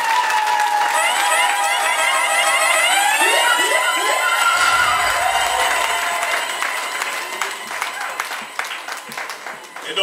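An audience at a 50th birthday celebration applauds in a dense, sustained burst of clapping, loud and near, with shrill whistles and cheers over it, slowly thinning toward the end.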